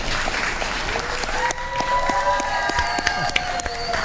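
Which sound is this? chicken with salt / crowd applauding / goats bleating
crowd applauding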